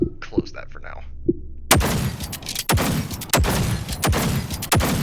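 A pistol fired in the modded VR video game Bonelab, a series of about five loud, sharp shots at roughly even intervals after a quieter opening with a few light clicks and handling noises.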